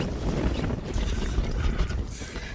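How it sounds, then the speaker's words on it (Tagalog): Strong wind roars and buffets the microphone at a dog park in a continuous low rumble, loud and close, with no voices. "mahangin nga lang ngayong araw"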